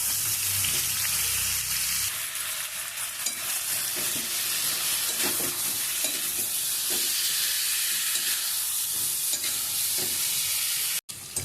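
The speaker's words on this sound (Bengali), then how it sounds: "এই পেস্টটা ভাজা আলুর মধ্যে দিয়ে ভালো করে কষাবো" Garlic, chili, ginger and tomato paste fries with fried potatoes in a pan, giving a steady close sizzle with scraping stir strokes throughout and a brief dropout near the end.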